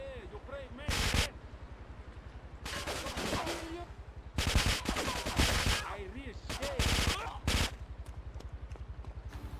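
A weapon firing in GTA III, several loud bursts of rapid gunfire spaced a second or two apart over a steady low game hum, with a voice talking faintly at times.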